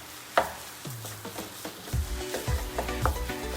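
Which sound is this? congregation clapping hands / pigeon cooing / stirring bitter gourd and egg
stirring bitter gourd and egg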